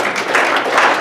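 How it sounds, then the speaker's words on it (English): A brief burst of audience applause at a Phoenix Group event, dense clapping from a crowd, loud and close, lasting about a second. "Give Rick a round of applause"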